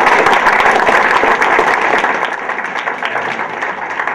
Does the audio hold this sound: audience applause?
yes